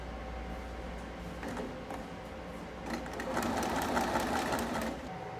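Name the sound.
sewing machine stitching a stretch stitch hem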